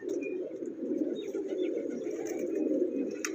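A large flock of colourful fancy pigeons in Bahawalpur coos together in a dense, continuous low murmur, close and steady throughout, with no talk.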